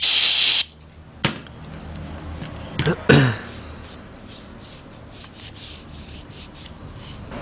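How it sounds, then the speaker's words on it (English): A short hiss of cleaner sprayed onto a rag, then a pause and a few brisk rubbing strokes of the rag against a minibike clutch, followed by quiet background. "I'm going to spray it on the rag and then wipe it."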